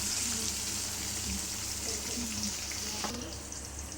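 Tomato and onion sauté in a pan for a Vellore-style rice and lentil dish, producing a continuous close hiss with light crackle and a soft stirring tap.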